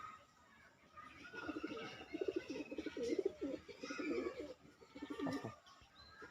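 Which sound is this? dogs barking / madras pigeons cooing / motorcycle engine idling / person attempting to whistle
madras pigeons cooing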